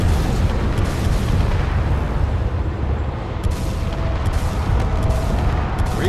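Spaceships trading fire in the game Space Engineers, a continuous barrage of heavy booms and blasts rumbling loud and dense throughout, with no speech.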